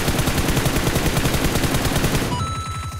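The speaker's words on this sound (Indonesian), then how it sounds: "Ada yang nembak dari jauh" Rapid automatic gunfire in PUBG, a loud continuous rattle of shots for over two seconds before it drops away, leaving quieter game ambience.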